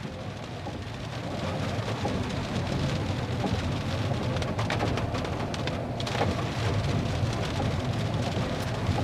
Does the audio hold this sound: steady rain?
yes